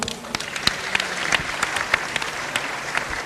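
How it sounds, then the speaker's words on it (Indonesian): Scattered clapping from a crowd, sparse and uneven, with individual hand claps popping out over a light background murmur. "Tepuk tangan Cak Nun."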